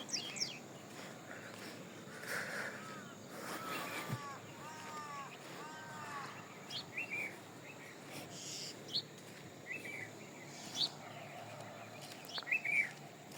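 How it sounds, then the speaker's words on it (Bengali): Bird chirps and twittering calls repeat at moderate distance over a steady outdoor hum on a winter morning in a rural village in Sreepur, Gazipur, with a few louder tweets near the end. "এই পাখির কিচিরমিচির"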